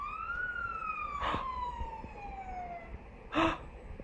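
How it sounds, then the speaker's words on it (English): A toy police car's siren wails in a falling electronic sweep, fairly close and clear, with a couple of short breathy gasps from children cutting in. "That was his siren. That was his police car."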